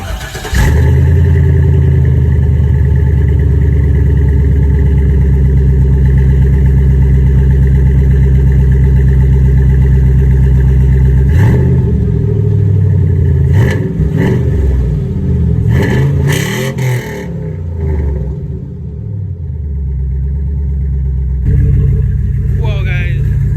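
Exhaust of a Chevrolet Silverado pickup truck, recorded up close from behind a tire, with a steady low idle rumble that breaks into several uneven revs partway through, then settles back to idle.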